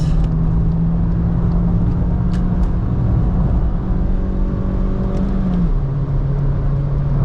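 A car pushing hard along a tiny green country road in Minas Gerais, Brazil, gives a close, steady engine drone with a faint shift in pitch near the end, with no voices.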